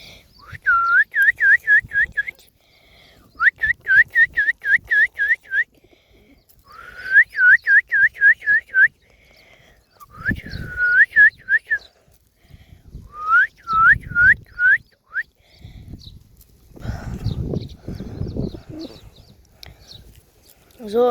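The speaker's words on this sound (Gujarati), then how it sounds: "જો મિત્રો અહીંયા બધા મારા કબૂતરા સણે છે મિત્રો" Pigeons gather close by to feed on scattered grain, giving repeated bursts of whistling, cooing calls in short rhythmic runs with pauses between, followed by softer fluttering and shuffling near the end.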